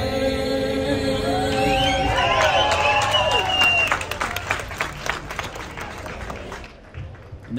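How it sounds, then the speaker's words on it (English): An outdoor crowd at Paterson's Puerto Rican flag-raising ceremony bursts into applause and some cheering as the national anthem's final sung note fades. The clapping is dense and loud at first, then thins and tapers off near the end. "Let's give him another round of applause."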